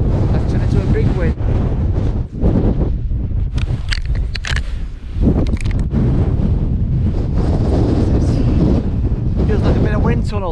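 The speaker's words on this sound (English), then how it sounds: "Feels like I'm in a wind tunnel." Strong wind on the hilltop of Cox Tor in Dartmoor roars and buffets the microphone in a continuous, loud gusting rush, with a person's voice heard speaking through it at moments.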